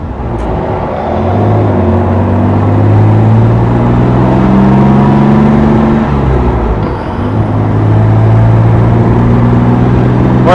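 A 1970 Jaguar XKE Roadster runs steadily on the road, its engine note a continuous droning hum that rises and falls slightly through a gear change, close and loud with no talking.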